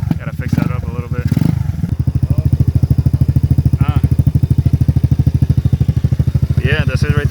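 A 2008 Piaggio Fly 150cc scooter with a Turbokit GMax 4T exhaust idles low and steady, its loud rapid putter close by, with a brief revving blip and talk at the start.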